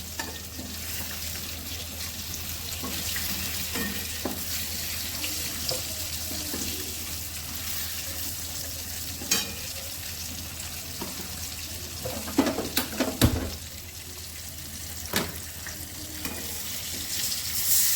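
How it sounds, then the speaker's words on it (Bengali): Fish curry with nigella seeds and green chillies simmering in a pan, with a steady sizzle and bubbling throughout, scattered sharp clicks and clatters of utensils, and a louder splash and knock near the end as water is poured in. "জল দিয়ে দিলাম।"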